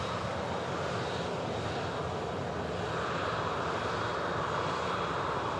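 Steady, loud roar of aircraft engines at Manchester Airport during pushback, with a continuous broadband rumble and no breaks or talk.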